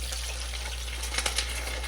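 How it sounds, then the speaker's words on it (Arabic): Water pours steadily into a cooking pot, about 1.5 litres added to lamb with ghee and spices for mansaf, a continuous close splashing gush. "بدي أحط المي"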